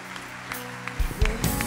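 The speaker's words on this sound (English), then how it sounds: "Keep clapping your hands." Congregation clapping hands together during a church worship service, irregular claps building near the end over a low hum, with some voices in the background.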